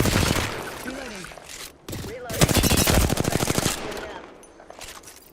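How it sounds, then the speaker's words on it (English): Rapid bursts of automatic gunfire ring out loud and close in a video game, broken by short pauses, with a voice talking over part of it. "Taking fire. Idiot with a firearm here. Getting shot at."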